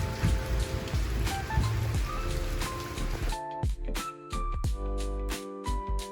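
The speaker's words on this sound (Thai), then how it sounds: "ฝนตกหนักเลย ฝนเช้าอย่างตกเลย" Heavy morning rain pours down during flooding on the Thai–Lao border, a dense, loud, continuous hiss of drops with scattered sharper splashes and patters throughout.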